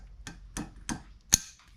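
Four sharp metallic taps from a small hammer seating a U-joint clip into the driveshaft yoke of a 2002 Chevy Tahoe, evenly spaced with the last strike hardest, close and clear with no talking.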